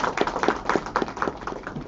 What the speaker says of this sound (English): So a big round of applause for all the dignitaries